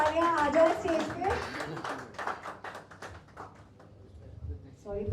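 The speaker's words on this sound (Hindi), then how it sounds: "प्लीज तुराज जी, आपके लिए तालियां आ जाए स्टेज पे." Concert audience applauding a lyricist at a contemporary ghazal event, scattered moderate clapping beneath and after a host speaking on stage, fading out toward the end.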